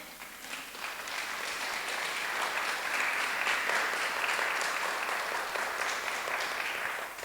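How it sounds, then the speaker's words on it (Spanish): A roomful of church congregants clapping steadily during a service, swelling slightly in the middle and holding at an even level. "darle un aplauso al Cristo vivo"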